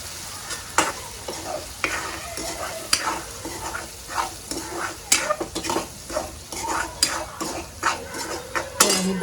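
Dal being sautéed in a pan for Nagpuri kadhi patodi sizzles steadily while a utensil scrapes and clinks against the pan in irregular repeated strokes, close and moderately loud, with no talking.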